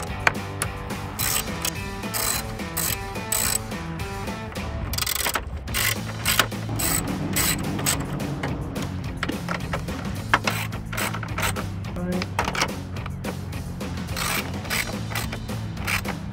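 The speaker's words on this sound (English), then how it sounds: "We can go ahead and switch our ratchet over." A ratchet tightens studs into metal clips on a 2018-2020 Ford F-150 grille emblem housing, a long, close series of rhythmic clicking strokes with brief pauses between bursts and no speech.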